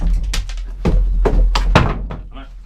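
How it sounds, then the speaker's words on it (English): A solid door on a Halloween coffin built from scrap pallet wood thunks against the frame in a series of loud, close, hollow knocks, several in quick irregular succession. "That door's actually quite solid."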